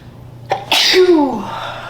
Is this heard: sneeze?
yes